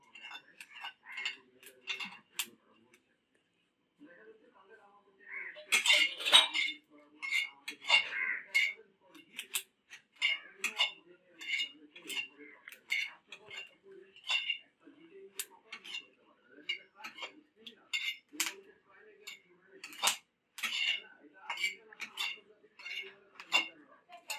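Irregular crackling pops and ticks from green chilies dry-roasting in a hot dry pan, quiet and scattered, with occasional metal clatter of a utensil.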